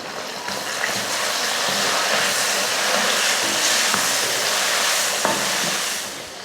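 Onions and tomatoes sauté in a pan with a loud, continuous sizzle and frying crackle, broken by occasional sharp stirring clicks near the end.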